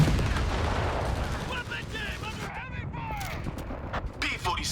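Bazookas and small-arms fire crackle through a Company of Heroes 3 battle, repeated shots and blasts layered in a busy mix while a commentator talks over the action.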